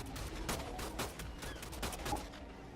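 Gunfire in the video game ARK, rapid repeated shots in quick bursts with a steady rhythm, fairly loud and close.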